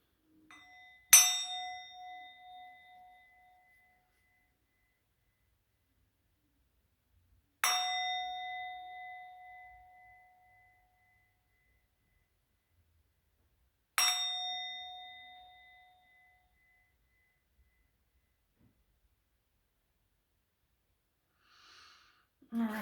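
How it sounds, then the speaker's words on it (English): A small metal bell struck three times at slow, even intervals to clear energy, each bright ding ringing out and decaying into quiet, with faint breathing near the end. "I'm going to be clanging the bell"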